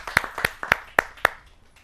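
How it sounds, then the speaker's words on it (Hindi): About five sharp, evenly spaced claps at a kavi sammelan poetry gathering, close and distinct, tapering off quickly with no talk over them. "जोरदार तालियों के साथ हम उनका स्वागत करें"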